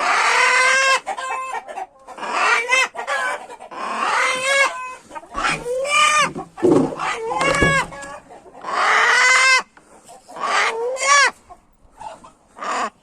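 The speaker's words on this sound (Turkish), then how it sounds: "Bak horozu gör bak. Bak ne diyor." Loud, close bird calls repeat in long, strained bursts with short gaps between, harsh and raspy like a rooster crowing again and again.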